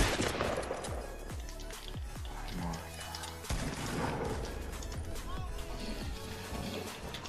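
Rapid bursts of gunfire from a Fortnite battle royale match crackle repeatedly over a busy game soundscape, with players talking throughout.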